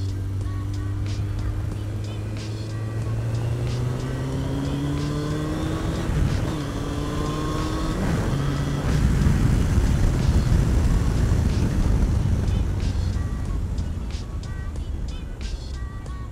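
A Suzuki RF900 motorcycle engine revs steadily in a quiet gated condominium, a loud continuous rumble with rising and falling pitch sweeps as the throttle opens lightly several times.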